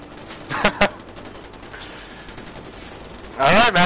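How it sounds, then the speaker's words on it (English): Several short bursts of distant gunfire ring out in the video game Far Cry 4, a pair of cracks early and a rattling volley near the end. "It sounds like there's all kinds of gunfire and shit."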